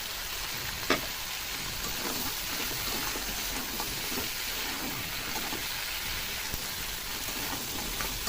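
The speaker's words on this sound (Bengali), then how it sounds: "কাঁকড়াটা হালকা কষানো হয়ে গেছে" Crab fries in a pan with green chillies, giving a continuous crackling sizzle with occasional sharper pops and faint stirring scrapes, close and steady with no talk.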